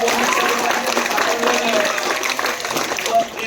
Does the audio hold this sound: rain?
no